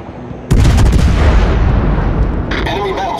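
Warship guns in a naval video game fire on a target, a loud heavy boom that opens into a sustained rumbling roar of broadside gunfire, with a second burst near the end.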